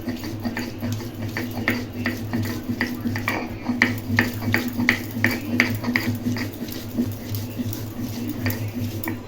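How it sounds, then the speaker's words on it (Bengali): Poppy seeds and green chilli are ground on a stone slab with rhythmic scraping strokes, each pass a soft gritty rasp repeating steadily, near and clear over a low background hum. "একটু পোস্ত আর কাঁচা লঙ্কা বেটে নিই, শিলে বেটে দিলে মিহিও হবে"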